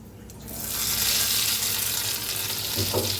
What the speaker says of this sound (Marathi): आता गरम गरम फोडणी ह्याच्यावर ओतून घेऊया.